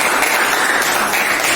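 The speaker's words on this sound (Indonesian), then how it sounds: "berikan aplaus" A classroom of students applauds a group's presentation, a dense, loud, continuous burst of clapping heard close and without a break.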